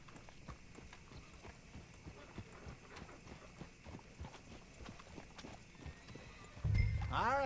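Horse hooves clip-clop steadily at a walk in the Red Dead Redemption II video game, a moderate rhythmic clatter with a brief louder thump near the end.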